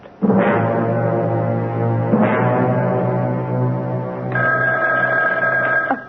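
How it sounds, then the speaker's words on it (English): An old-fashioned telephone bell rings loudly and continuously in an indoor scene, with a steady tonal buzz that restarts twice and shifts to a higher metallic ring near the end. "that telephone never seems to stop ringing"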